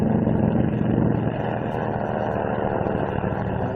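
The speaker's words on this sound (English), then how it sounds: "launching flight after flight of dive bombers and Avengers to pound the Jap defenses" Dive bombers and Avenger aircraft launched from carriers off Guam drone overhead as a loud, steady engine roar, close and continuous, in old 1945 wartime film sound.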